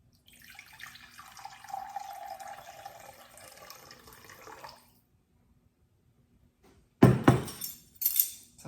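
Warm water poured into a bowl set on a kitchen scale while making rosemary focaccia dough, a soft steady trickle lasting several seconds, followed by sharp clinks of glass or utensils.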